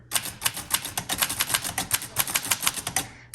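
Rapid typing on a 1948 Underwood Champion Portable typewriter, close and crisp, with a steady stream of sharp metallic key strikes in an uneven rhythm and no talking.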